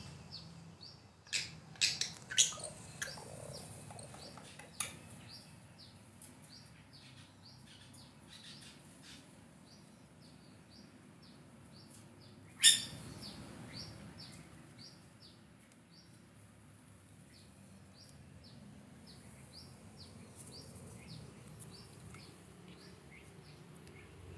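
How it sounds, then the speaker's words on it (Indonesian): A white-rumped shama in an aviary calls close by, with sharp repeated chirps and squawks in early bursts, a loud single call midway, then softer scattered tweets against a quiet background. "Nah, ini ada murai batu teman-teman."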